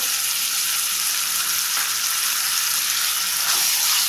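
Ginger garlic paste frying in a pan for capsicum pulao, a loud, steady, close sizzle with faint stirring scrapes, no voices.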